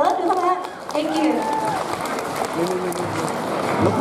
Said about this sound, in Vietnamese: Một tràng pháo tay thật lớn nữa, được không ạ?